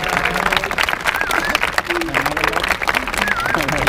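A crowd at a freestyle rap battle applauds a rapper, clapping mixed with cheering and babble while voices shout over the noise throughout.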